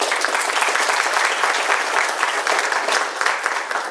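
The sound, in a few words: applause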